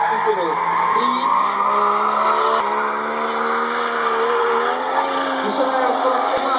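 A rotary-engine race car revs high and buzzy in a continuous, loud whine, with shifting pitch that rises and falls over several seconds.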